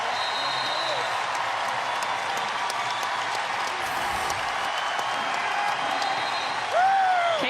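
Crowd at a women's college basketball game between Iowa and Drake, a steady broad roar of cheering and applause from the arena that swells slightly near the end, with a commentator talking over it.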